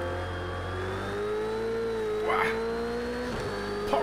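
A Ferrari 488 Challenge race car power drifting in Project Cars 2 at Hockenheim, its engine holding a loud, high sustained whine that wavers and dips, with brief tire scrubbing bursts.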